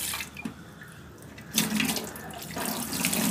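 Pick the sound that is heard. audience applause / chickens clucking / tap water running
tap water running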